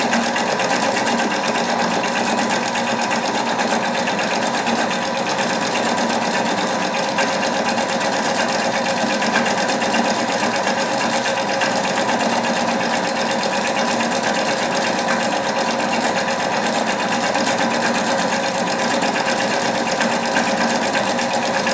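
A Husqvarna Topaz 25 sewing machine stitching automatically at a steady, loud, continuous whir with no breaks, running close by.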